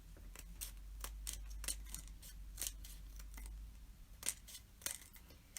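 Scissors trim paper close around the edge of a kids' kaleidoscope craft, giving a quick series of faint, crisp snips in an irregular rhythm, with no one speaking.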